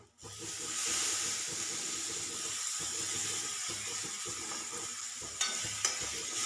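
Green chillies roasting in a pan with lemon, a steady soft sizzle and crackle with faint stirring scrapes, close and continuous.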